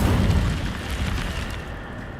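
A fire spell cast in the video game Hogwarts Legacy, a loud, sustained roaring whoosh of flame with a rumbling low body that slowly fades over about two seconds, with no voices.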